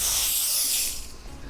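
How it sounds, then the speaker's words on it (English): All-purpose cleaner is sprayed onto a car's vents in one sustained, close, loud hissing burst that tapers off after about a second. "Spraying all clean like that, willy-nilly I might even call it"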